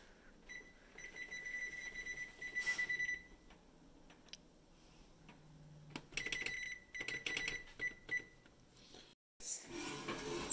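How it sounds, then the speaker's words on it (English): A kitchen timer is set for 45 minutes while bread bakes in a home kitchen, giving short electronic beeps in two clusters over soft background noise. "Set a timer for 45 minutes."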